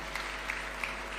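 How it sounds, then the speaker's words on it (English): Audience applause at a fertiliser and soil health summit in a conference hall, a brief spell of faint, distant clapping with no voices over it. "We can give him a warm clap as he's approaching the stage."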